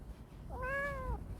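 A single cat meows once, a clear rising-then-falling call close by, heard on a quiet night walk toward Dong-baek Lake Park with steady low background rumble.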